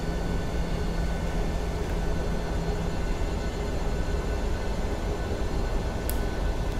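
A PMDG 737 NGX in the Prepar3D flight simulator rolls down the Denver runway for takeoff, a steady broadband engine roar with a constant hum, unchanging and close throughout.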